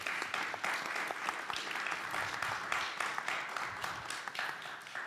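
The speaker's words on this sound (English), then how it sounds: "Yes, please give him a round of applause." Steady, dense applause from a conference audience at the close of the ESPAS 2022 event, lasting the whole stretch at an even level with no voices on top.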